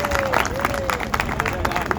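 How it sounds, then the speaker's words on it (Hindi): Scattered clapping rises from an audience at a history lecture in Bikaner, short and uneven under background chatter and murmuring voices. "जोरदार तालियां बजाई"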